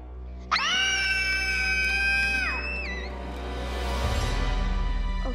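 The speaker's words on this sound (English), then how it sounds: "Okay, we're done screaming now" Loud overlapping screams from a group of students at a school in a German comedy film, a sustained shrill chorus that cuts off after a couple of seconds and fades into low murmuring and rumble.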